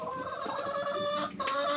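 Several chickens cluck and murmur close by, a steady busy chatter of fowl with a brief dip near the end.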